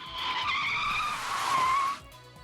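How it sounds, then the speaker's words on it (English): A high, tonal squeal of a bicycle braking in the Steins;Gate visual novel game, a steady screech with wavering pitch lasting about two seconds before cutting off abruptly. "the sound of a braking bicycle comes from downstairs"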